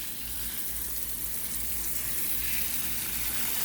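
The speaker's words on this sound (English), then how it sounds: "It also puts out a lot of water." Water gushes steadily from a garden hose with a wrapped fitting, a loud continuous hissing spray that grows slightly fuller over a few seconds, with no talking.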